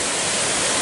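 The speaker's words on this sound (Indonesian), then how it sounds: "Sekarang saya berada di air terjun." A tiered waterfall, Baruttung Golla, pours behind rocks and trees, giving a steady, loud rushing roar with no pauses and no voices.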